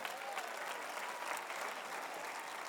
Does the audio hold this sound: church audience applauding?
yes